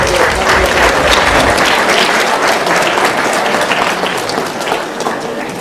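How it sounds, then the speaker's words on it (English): Parents are applauded at a school spelling bee, with a loud, full burst of clapping from a crowd of many hands that stays strong and dense for several seconds before easing slightly toward the end. "Round of applause for our parents."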